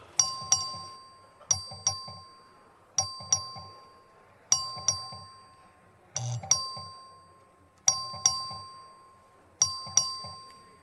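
A voting bell rings for a record vote on a House bill in a legislative chamber: repeated two-tone chimes, about seven rings spaced roughly 1.5 seconds apart, clear and fairly loud with no talk.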